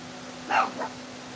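A dog on a back porch gives two short barks, the first louder and the second softer, close by against a quiet background.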